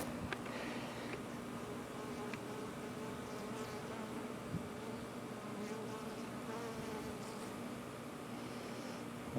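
Honeybees buzz in a steady, dense drone from a colony bearding up inside a water meter box, the swarm noise continuous and close throughout with a few brief louder passes.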